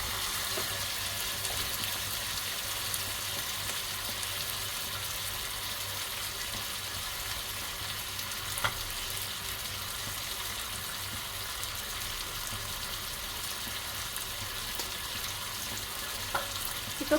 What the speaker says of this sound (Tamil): அது வரைக்கும் கொஞ்சம் வதக்குங்க.